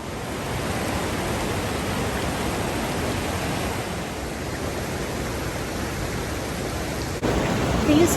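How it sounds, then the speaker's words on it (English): Rushing rapids on the New River mixed with a small creek in a gorge, a steady broadband roar of water that stays constant and close throughout, growing slightly louder near the end. "the sounds of the rapids and the sound of the little creek in front of me"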